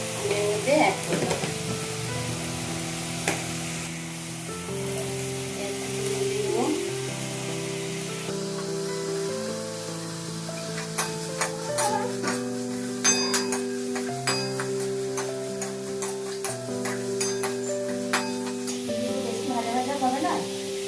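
Chilli chicken frying in a pan with a steady sizzle while a utensil stirs and taps against the cookware, scattered sharp clicks growing busier later on, over a continuous tonal hum in the background.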